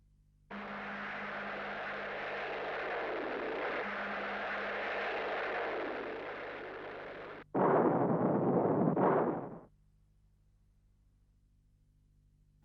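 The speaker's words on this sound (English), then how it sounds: "the missile blasts straight to the target, sending it up in a ball of flame" An anti-tank missile test shot against an armored target: a long sustained roaring rush, then a short, heavy, loud blast burst that ends sharply into silence.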